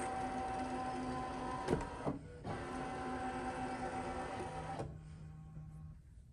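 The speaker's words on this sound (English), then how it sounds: "carriage is going to move." Printer carriage motor whirring steadily during a USB firmware update, a continuous mechanical drone with clicks and brief pauses, ending in a lower hum as the carriage settles; no talking.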